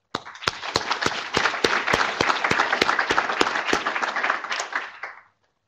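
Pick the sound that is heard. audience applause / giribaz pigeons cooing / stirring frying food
audience applause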